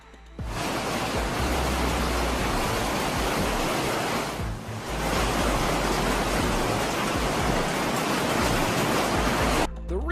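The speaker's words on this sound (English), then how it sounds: "This hailstorm was unique on its own." Hailstorm: a dense, loud, continuous roar of falling hail that briefly eases midway, then resumes at full strength before cutting off.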